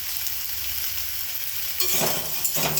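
Close, steady sizzle of green banana and potato curry frying with spices, sugar, salt and turmeric in a pan, with scraping stirs growing louder near the end.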